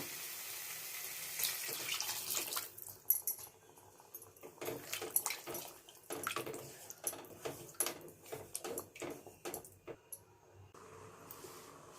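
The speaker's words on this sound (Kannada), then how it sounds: "1 ಕಪ್ ನೀರು ಆ್ಯಡ್ ಮಾಡ್ಕೋಬೇಕು." A cup of water is poured into a pan of mushroom gravy, making a continuous splashing, trickling flow with clinks of utensils, close and fairly quiet.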